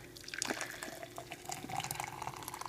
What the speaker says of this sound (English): I'm just going to put my boiled water in there.